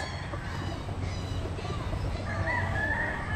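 A young gamecock (stag) crows loudly near the end over a steady background hum, with other chickens faintly clucking throughout.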